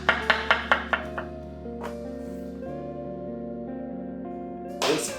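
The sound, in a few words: knife slicing food into small pieces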